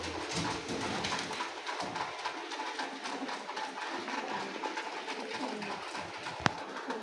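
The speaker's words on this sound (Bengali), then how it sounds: "কবুতর ডাকতে দিচ্ছে" Pigeons coo and call close by through a steady hiss of heavy rain, with a sharp single click near the end.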